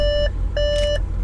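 Two steady electronic door-open warning tones from inside an Audi RS6, each a sustained beep lasting about a quarter second, repeating with a short gap, loud and close.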